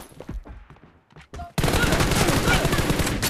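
A player talks briefly over quiet game sounds, then a sudden loud, continuous burst of rapid automatic gunfire in a TDM shooter video game fills the rest, near and dense.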